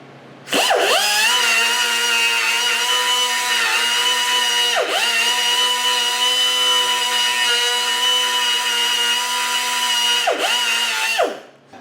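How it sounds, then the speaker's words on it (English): A power grinder runs steadily for about eleven seconds, grinding lumps off a transaxle part for a vintage 1960s VW buggy. The whine is loud and close, with brief dips as the tool shifts on the metal. "Grinding the 4 lumps"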